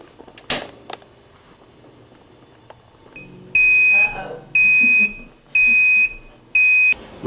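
A few clicks and a clunk, then four loud, evenly spaced high-pitched F1 error beeps from a Kenmore or GE electric range, each about half a second long.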